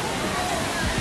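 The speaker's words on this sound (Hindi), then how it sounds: "वाटरफॉल है, ऐसे 2 वाटरफॉल ऊपर और हैं" Waterfall near Neer Garh in Rishikesh, a loud, dense, continuous rush of falling water filling the whole second.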